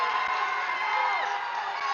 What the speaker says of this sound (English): The fans from Kent cheering their team